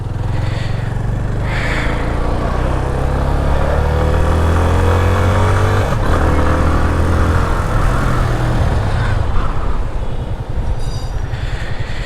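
A Yamaha FZ25 motorcycle on a road test ride roars loudly and close, its engine pitch climbing through each gear, with a brief dip around a shift midway before it pulls again.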